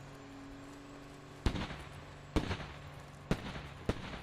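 Mortar rounds in a military shooter game land in four sharp booming blasts about a second apart. Each blast is followed by a brief rumbling tail over low ambient noise.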